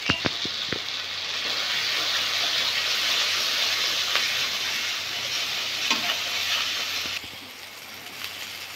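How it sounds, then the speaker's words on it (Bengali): Spice paste sizzling and being stirred in hot oil for a koi fish curry, a steady frying hiss with occasional scrapes and clacks of the spoon, loud and close, easing off slightly near the end. "মশলা খুব ভালোভাবে কষানো হয়ে গেছে"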